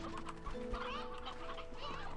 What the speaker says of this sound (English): we're going to siphon off some chickens